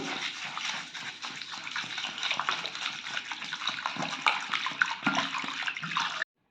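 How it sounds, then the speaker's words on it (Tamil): Water splashes and swirls in a bowl as rice is rinsed by hand for making achu murukku, a continuous close, busy sloshing that stops abruptly. "இதை நல்லா தண்ணி ஊற்றி கழுவிக்கலாம்"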